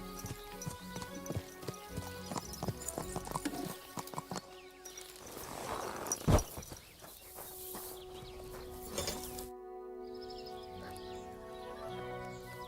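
Clip-clopping horse hooves in the medieval game Kingdom Come: Deliverance II, a run of fairly close rhythmic footfalls with a brief loud thud midway, then quieter ambience and faint birds.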